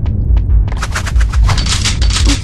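Rapid gunfire in the Survival Crisis Z video game, a loud continuous burst of closely spaced shots over a low rumbling backdrop.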